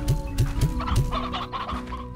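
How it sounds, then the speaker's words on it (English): Hens cluck in the Slime Rancher video game, a run of four or five close, loud clucks in a quick rhythm, followed by a softer, busier patch of bird chatter with no talking. "I need to get rid of these stony hens"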